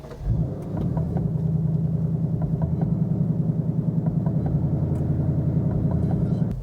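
A 2024 Ford Mustang GT engine cranks via push-button start and catches, then settles into a steady, rumbling idle with a regular low pulse that continues to the end.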